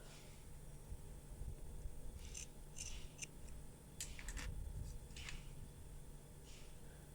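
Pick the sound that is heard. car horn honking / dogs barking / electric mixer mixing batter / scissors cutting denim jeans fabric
scissors cutting denim jeans fabric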